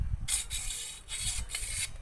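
A metal file rasps back and forth over a trigger part for a steel-tube slingshot crossbow, making four rhythmic scraping strokes with short pauses between, close and distinct with no talking.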